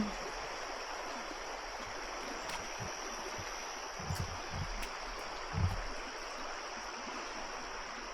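A river rushing past a pair of riverside pools, a steady broadband rush of flowing water with a few faint knocks and thumps along the way.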